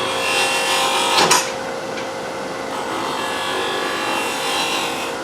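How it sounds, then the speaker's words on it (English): A quarter-inch bowl gouge cuts into wood spinning on a lathe while a spiral goblet is turned, making a continuous rough shaving hiss with a brief, louder scrape near the start. "This is a bowl gouge, it's 1/4-inch bowl gouge."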